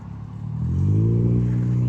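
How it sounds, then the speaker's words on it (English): A small, noisy car's engine drones low and rough on a city street in Portland, Oregon, getting louder as it approaches and holding a steady buzzing rumble nearby. "There's another small, noisy car."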